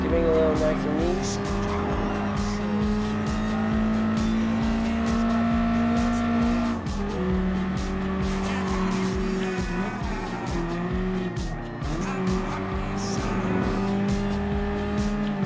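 A BMW M3 Sport Evolution, the late-1980s sports car, racing in Gran Turismo Sport: a loud, sustained engine howl rising and falling through gear changes, with brief tire squeals, steady and close throughout.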